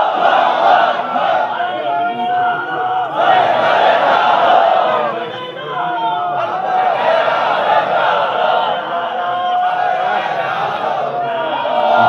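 A large crowd at a Bengali Islamic sermon (waz) chants the takbir call, a loud, continuous roar of massed voices that rises and dips in waves for the whole stretch.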